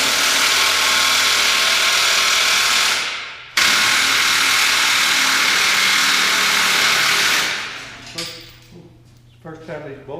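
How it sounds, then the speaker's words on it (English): Loud, continuous whir of a power tool driving out bolts from the under-shield of a 2020 Ford F-150, running steadily with a brief break near the middle, then trailing off into quieter clicks and clatter. "This may be a little loud, but there's just a few bolts on the shield on over here."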